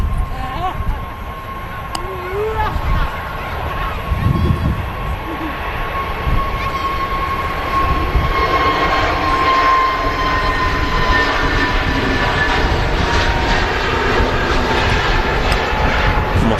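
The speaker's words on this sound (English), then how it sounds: "Pegasus on the roll, A320 Neo." A Pegasus Airlines Airbus A320neo on its takeoff roll at Manchester Airport gives a steady, broad jet-engine roar that holds and swells slightly over the span, with people talking over it.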